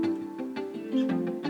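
Taylor 914 acoustic guitar played with palm-muted plucks, a short bouncy pattern of soft, dampened notes, quiet and close with no talking.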